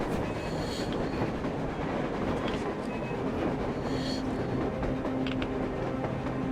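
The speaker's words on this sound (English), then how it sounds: "A train! A damn train on the surface!" A train runs on the surface in the video game Metro Exodus, giving a steady, loud rumble of rolling rail cars with faint squeals and clatter that carries on throughout, with no speech.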